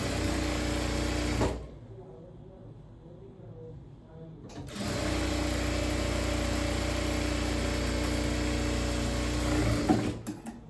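A sewing machine runs steadily while stitching the folded hem of a palazzo pant, loud and close, with a motor hum and rapid needle rhythm. It pauses for a few seconds partway through, then resumes.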